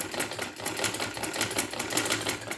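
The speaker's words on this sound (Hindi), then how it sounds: "यहाँ से हमें सिलाई करनी है।" A sewing machine stitches a suit neckline in a fast, steady mechanical rattle, close and continuous throughout with no pauses.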